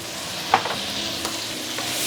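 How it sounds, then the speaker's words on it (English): Chili prawns stir-fried in a wok sizzle steadily up close, with one sharp scrape of a spatula and a couple of lighter clinks. "Give it some final stir"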